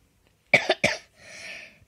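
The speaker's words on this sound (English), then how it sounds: "I'll cough all day" A short, sharp cough in two or three quick bursts, then a softer breathy exhale, close by in a quiet room.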